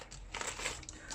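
Paper envelopes crinkle and rustle softly as cash is pulled out, a brief faint crumpling close by.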